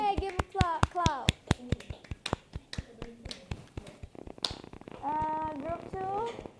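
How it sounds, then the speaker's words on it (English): A classroom of students gives a round of sharp, rhythmic claps during a bilingual lesson, the crisp hand strikes mixed with children's voices talking and calling out. "Give a clap."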